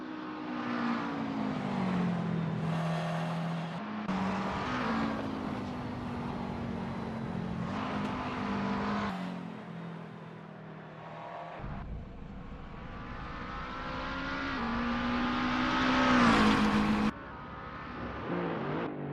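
Racing car engines in Assetto Corsa, including a McLaren 650 and a Mercedes SLS GT3, drone loudly and continuously, rising and falling in pitch through gear changes across a lap with no talk.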